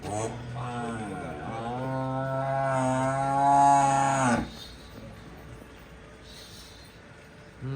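Cattle on a farm, freshly calved cows, give a long, loud, close moo that rises and holds for several seconds before cutting off, leaving quiet farmyard background.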